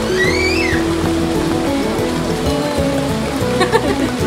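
Steady rain pattering on surfaces in a Batangas province setting, a continuous dense hiss heard close, with background music and faint voices underneath.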